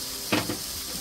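Chopped onion and bell peppers sizzle in a frying pan with salt and pepper, a steady hiss with a brief louder burst of scraping and crackle as they are moved.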